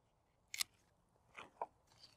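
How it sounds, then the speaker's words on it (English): Snips from pruning shears cutting through the stem of a baby rubber plant (Peperomia obtusifolia): a few short, crisp cuts close by, spaced apart, with no talking. "And then I'm going to cut this one right here."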